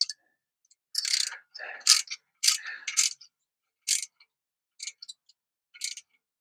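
A ratchet wrench clicks in short bursts as a bolt is worked on the headers of a 1968 Ford F100 with a 460, crisp close ratcheting separated by silent pauses, fewer clicks toward the end.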